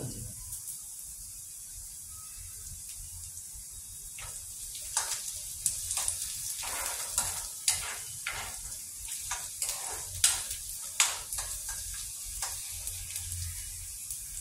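Curry leaves dropped into hot oil for a chilakada dumpa pulusu, a steady low sizzle that breaks into a run of crackling pops and spits, close and moderately loud with no talk.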